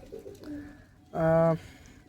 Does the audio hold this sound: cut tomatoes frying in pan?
no